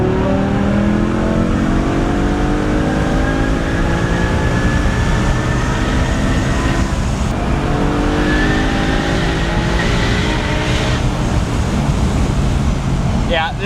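A V10 BMW supercar, an abandoned car made street legal, accelerates hard with a loud, continuous engine roar and rising harmonic sweeps as it climbs through the revs, while a voice talks over it.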